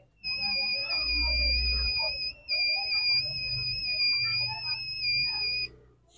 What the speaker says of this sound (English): the buzzer sounds loudly, indicating the presence of fire